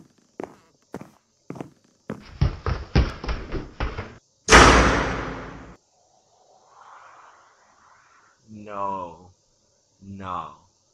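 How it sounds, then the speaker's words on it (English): Footsteps run in a quick burst of thuds inside a Minecraft horror map orphanage, then a door slams loudly, followed by faint rustling and two short spoken remarks. "Someone just ran and slammed the door."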